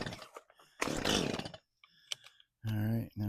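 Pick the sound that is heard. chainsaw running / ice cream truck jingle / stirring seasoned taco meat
chainsaw running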